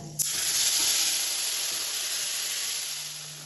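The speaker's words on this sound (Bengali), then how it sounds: "ফোড়নটা তেলে একটু নাড়াচাড়া করেই এর মধ্যে দিয়ে দেব মশলার পেস্ট বানিয়েছিলাম সেটা" Spice paste sizzles hard in hot oil with tempering spices for a vegetarian cauliflower rezala, a loud steady hiss that holds for the whole stretch with no talking.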